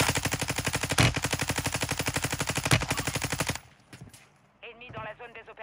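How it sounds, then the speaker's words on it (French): Rapid, evenly spaced automatic gunfire rattles in a video game for over three seconds, with two louder blasts mixed in, then stops abruptly, leaving quieter game sounds and short bursts of voice. "Y'a un sniper qui me tire dessus."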